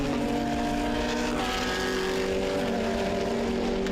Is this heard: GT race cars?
yes